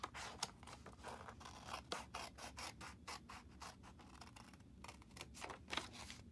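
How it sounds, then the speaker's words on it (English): Scissors cutting across a paper flap on a handmade favor box, a faint, close run of rapid crisp snips and scratchy rasps in quick succession, no talk. "we're gonna cut this whole thing off. But all the way across the flap."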